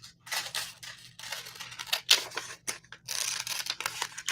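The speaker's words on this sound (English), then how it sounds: "I'm going to cut out these petals" Scissors snipping through paper petals cut from a template for a sunflower mixed media collage, close and crisp, a steady run of short slicing crunches with brief pauses and one sharper snip, no talking.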